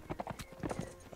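Horse hooves galloping in the medieval combat game Mount & Blade Warband during a cavalry siege battle, a quick irregular clip-clop of several close, distinct hoofbeats with a faint neigh-like tone.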